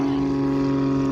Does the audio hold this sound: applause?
no